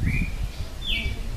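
A young red-cowled cardinal (galo-de-campina) gives two short, high whistled chirps, close and clear, over a low rumbling background with no talking.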